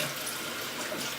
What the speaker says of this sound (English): grab your brush if you got one, and you have the hot water get into it